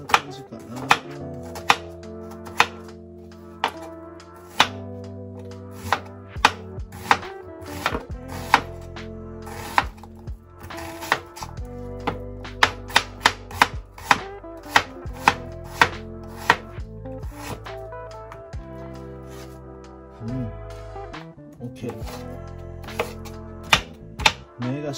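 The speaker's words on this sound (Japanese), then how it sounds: "玉ねぎをみじん切りしていきます。" A knife finely chops onions on a board in quick bursts of sharp, close taps, pausing and resuming, with a steady tonal background underneath.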